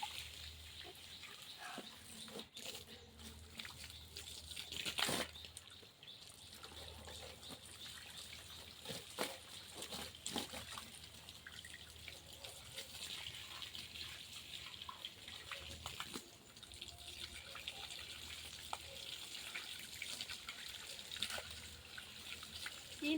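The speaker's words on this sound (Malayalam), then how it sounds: "ഒരു 2-3 ടാങ്ക് വെള്ളം ഇങ്ങനെ ഒഴിക്കും" Water from tanks is poured over someone bathing outdoors in a backyard plot, making faint splashing and gushing sounds with irregular bursts and trickles throughout.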